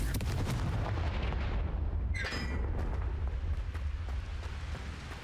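A Confringo blast spell in Hogwarts Legacy goes off as a booming, rumbling explosion with a bright crackling burst partway through, loud and sustained before slowly fading.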